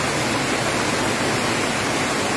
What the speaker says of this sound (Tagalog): Ang bilis ng anod ng agos ng ulan. Agos ng ilog.